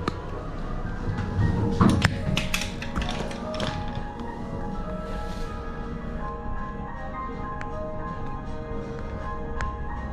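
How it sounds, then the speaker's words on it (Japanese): Toshiba elevator doors at MOMO Terrace slide shut with a few clunks and taps near the start, followed by a steady mechanical hum inside the car. "ドアが閉まります。"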